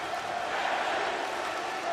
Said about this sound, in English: Crowd cheering on the Czech Republic.